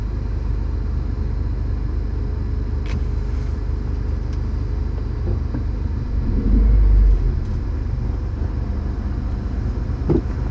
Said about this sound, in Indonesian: Ini sepertinya ada truk di depan sini.